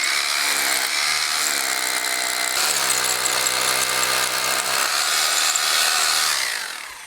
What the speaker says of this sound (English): We got to drill one more down there at the end.